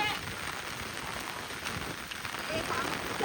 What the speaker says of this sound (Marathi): पाऊस चाललेला आहे